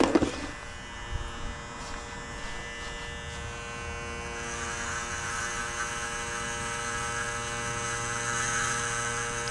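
A VGR V-137 hair clipper runs with a steady, bright electric buzz while it cuts through carpet, loud and close and nearly constant. A few light bumps come at the start, and no one talks.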